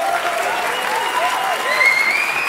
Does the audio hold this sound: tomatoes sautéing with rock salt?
no